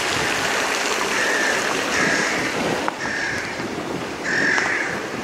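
Water splashing from an outdoor fountain by a modern spa clinic in Bad Sassendorf, a continuous loud rushing wash with wind buffeting the microphone and faint higher tones drifting through.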